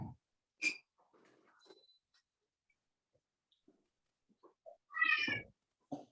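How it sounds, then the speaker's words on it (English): A cat meows in a quiet room during an art class. A short, bright cry comes early, then a louder, drawn-out meow near the end, with faint rustles and near silence between them. "must be one of Sandra's cats"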